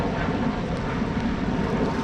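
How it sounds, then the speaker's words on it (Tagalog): A jet fighter passes overhead beside a small fish pond, producing a loud, continuous broadband engine roar that holds steady throughout. "Daming jet fighter, ah."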